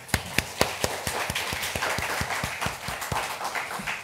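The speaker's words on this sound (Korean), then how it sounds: "우리 축복하면서 박수 한번 할까요?" A church congregation claps together during a Sunday worship service, a dense round of hand claps with sharp, distinct strikes roughly every quarter second standing out over the steady patter, close and moderately loud throughout.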